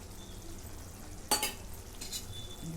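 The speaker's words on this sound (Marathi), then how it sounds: "पुन्हा मिक्स करून घेते" Kasuri methi is stirred into a pan of egg curry, with a soft constant sizzle and a couple of quick spoon scrapes and clinks against the pan, quiet and close with no talk.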